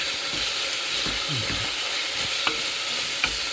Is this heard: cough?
no